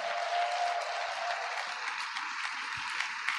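A church congregation applauds at a worship service, a steady wash of clapping hands filling the space at moderate level, continuous and even with no single voice standing out.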